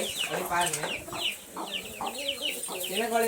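Chickens and chicks on a farm cluck and chatter in short, overlapping calls, close and fairly loud, with no pause throughout.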